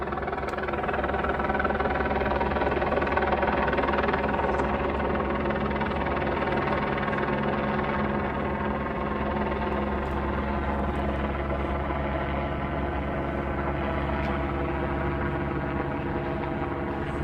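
A helicopter hovers overhead with a steady, droning engine hum that holds level and unbroken throughout.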